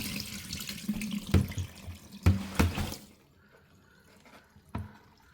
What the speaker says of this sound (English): So remove the cups and drain all the water.